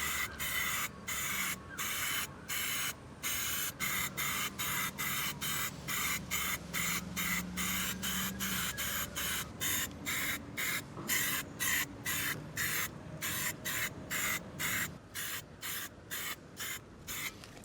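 Plasti Dip rubber coating sprayed from an aerosol can onto a masked-off car wheel, with repeated bursts of steady hiss separated by short pauses, close up and alone without talk.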